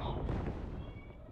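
An explosion in the superhero video game Spider Fighter 3 gives one heavy blast with a rumbling tail, loud and close, with a voice talking over it.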